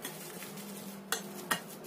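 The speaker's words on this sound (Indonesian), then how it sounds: "Kita aduk lagi." Fried shallots being stirred into a cooking mixture for a snack dish, with soft scraping and two sharp clinks of a utensil against the pan over a low steady background, no talking.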